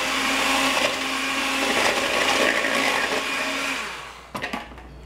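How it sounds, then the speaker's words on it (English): A handheld electric mixer whirs steadily through muffin batter for strawberry rhubarb almond muffins, a loud continuous motor drone that fades near the end before a few short bumps of the beaters. "I have my handheld electric mixer"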